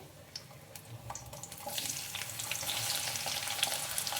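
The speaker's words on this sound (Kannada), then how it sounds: "ಈರುಳ್ಳಿ ಹಾಕ್ಕೊಂಡು ಚೆನ್ನಾಗಿ ಸ್ವಲ್ಪ ಫ್ರೈ ಮಾಡ್ಕೊಳ್ಳೋಣ" Chopped onions dropped into a few spoonfuls of hot oil in a pan for mutton saaru, a steady sizzling hiss that builds and grows louder after the first moments, with no talk.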